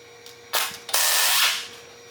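A ratchet or power tool loosens differential carrier bolts on a Dana S111 axle in a workshop, giving two short sharp bursts of clicking and whirring, close and fairly loud.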